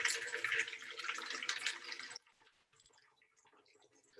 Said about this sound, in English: I am going to pour some vinegar in the bottom of my bottle.